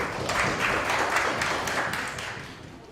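An audience applauding a speaker at a pig breeding auction seminar, a dense steady patter of clapping that swells early and slowly fades over a few seconds.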